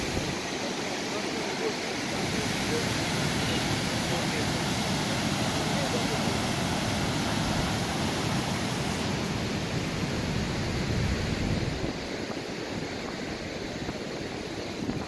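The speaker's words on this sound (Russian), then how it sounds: "речка горная" A mountain river flows steadily beside a large mountain and birch trees, a broad, continuous rushing roar of water that stays loud and even throughout, with wind buffeting the microphone.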